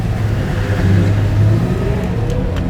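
Classic racing car pulling away at a Pebble Beach concours event, a loud steady engine drone that stays close and rises a little in pitch across the few seconds, with no talking.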